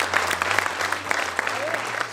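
An audience claps at a Hindi kavi sammelan poetry recital, a dense burst of steady applause from many hands filling the short moment.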